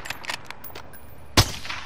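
A single sharp gunshot from Call of Duty Warzone gameplay cracks out loud and close near the end, after a few fainter, softer taps earlier on.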